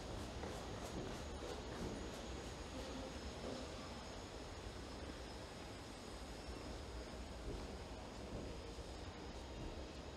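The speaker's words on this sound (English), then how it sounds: "There's my train there. It says 10:45 Lakeshore West." GO train rumble at Union Station in Toronto, a steady broadband roar of rolling wagons and rail noise with faint high squeals, continuous and fairly close throughout.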